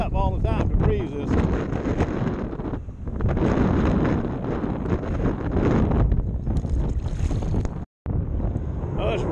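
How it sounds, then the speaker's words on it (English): Strong wind blows outdoors, roaring and buffeting against the microphone in loud continuous gusts, with a brief drop to silence near the end. "Oh, this wind is really picking up now."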